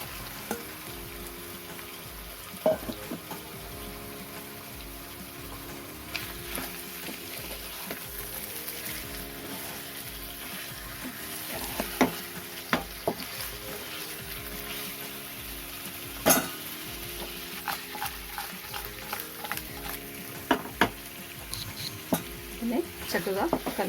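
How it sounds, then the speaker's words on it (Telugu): Marinated chicken for gongura chicken frying in a pan, a steady sizzle running throughout while a spoon stirs and scrapes with frequent clicks and knocks, fairly close, with a faint voice now and then. "ఇప్పుడు మనం మ్యారినేట్ చేసుకున్న చికెన్ని ఇందులో వేసేసుకుందాం"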